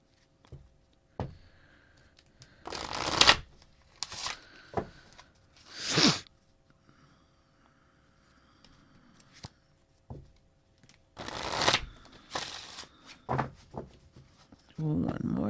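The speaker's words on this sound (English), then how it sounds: "One more shuffle." Several short riffling bursts of a tarot card deck being shuffled, separated by quiet pauses, with soft handling clicks in between.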